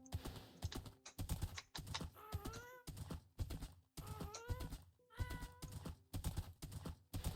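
Horse hooves clip-clopping in Minecraft, rapid clicky footfalls in bursts with short pauses between, plus a couple of brief whinnies; close and dry, with no talk.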